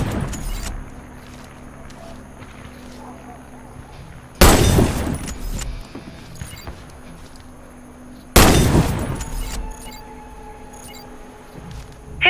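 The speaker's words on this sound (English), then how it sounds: "Hit all the targets with your sniper rifle." Two loud sniper rifle shots in the Warface video game ring out a few seconds apart, each a sharp crack with a decaying echo over a quiet ambient hum.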